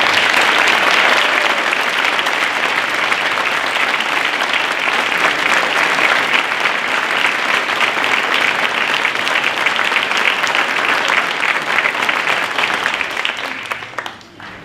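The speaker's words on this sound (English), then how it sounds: "And I'll ask for applause once again." A crowd at an annual volunteer recognition reception in Manassas applauds the honorees, loud sustained clapping that fades out at the very end.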